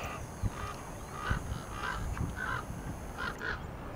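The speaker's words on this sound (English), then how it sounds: "We set off all those birds in the distance there." A flock of wild birds sounds off in the distance with scattered goose-like honking calls, faint and far away over a steady outdoor background hiss.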